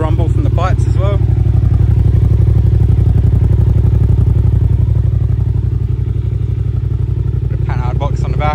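A 2008 Yamaha TDM900 motorcycle engine idles steadily with a deep, even exhaust rumble, loud and close throughout, with a voice briefly audible near the start and end.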